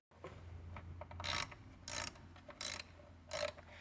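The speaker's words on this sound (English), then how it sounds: "we're going to use our 8 millimeter. Put it on that clamp, loosen it" An 8 mm socket ratchet turns a hose clamp on the fluid tank hose of a Bobcat zero-turn mower, a few short bursts of rapid clicking separated by brief pauses, close and crisp.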